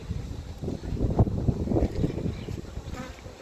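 Honey bees buzzing around the entrance of a pink hive box outdoors, a steady low hum with passing close buzzes and some wind on the microphone, no talking.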